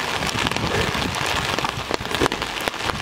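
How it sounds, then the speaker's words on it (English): Steady, dense rain patters outdoors while people walk through it on the way between shops, a close continuous hiss of drops with no talking. "We're walking on the rain."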